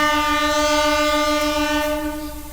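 At a railway station, a passing train sounds its horn in one long, steady, loud blare, with rumbling rail noise beneath that fades slightly toward the end.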